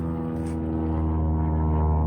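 A propeller airplane passes overhead with a steady, loud droning hum of layered engine tones that holds constant throughout.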